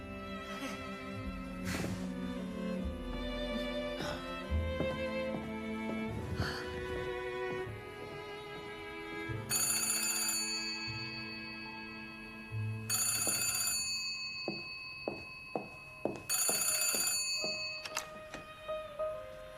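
An old-fashioned telephone rings in a period drama, a bright bell tone repeating in several bursts over background music and scene sound, with no talk during the ringing.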